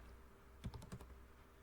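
A short burst of a few quick keystrokes on a computer keyboard while Python print code is typed, faint and close, with no voice over it.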